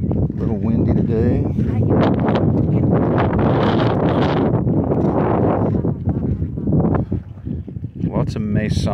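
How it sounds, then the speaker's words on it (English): Wind gusting across an open cemetery in Virginia City, a steady loud buffeting roar on the microphone that runs throughout, with someone talking over it. "A little windy today."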